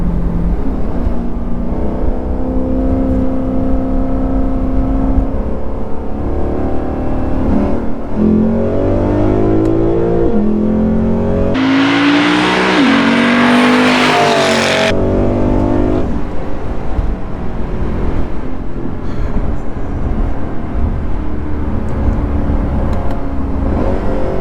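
A Lexus GS F fitted with an APEXi midpipe revs up and down, its exhaust growling in rising and falling sweeps with one sharper, louder burst partway through, with no talking.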